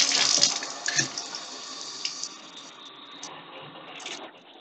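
Water gushes from a bathroom tap into a garden hose and rushes along, strongest at first, then settling into a quieter steady flow with a few small splashes.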